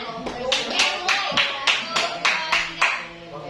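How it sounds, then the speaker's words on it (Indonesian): Students clap together for a classmate who has just sung in a junior high school classroom, a rough, uneven burst of hand claps with stronger beats roughly every half second, moderately close. "Teman kalian yang dapat nyanyi kalian tepuk tangan."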